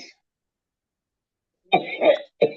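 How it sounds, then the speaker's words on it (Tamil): A few harsh coughs come close together after a silence, loud and near, the last one slightly separated from the rest. "இந்த அக்காக்கும் நல்ல இருமல் இருக்கு."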